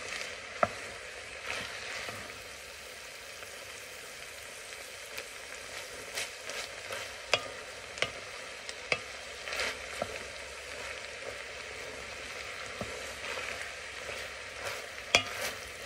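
Chopped onion sizzling and frying in a soup pot over medium-high heat, a steady bright crackle with repeated sharp scrapes and taps of a spoon stirring throughout.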